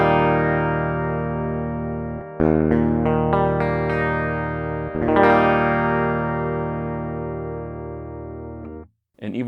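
A clean, unprocessed electric guitar through a humbucker pickup rings out with sustained chords that decay slowly, a few strums in succession, loud and close with no voices.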